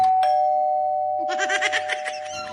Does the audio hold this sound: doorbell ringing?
yes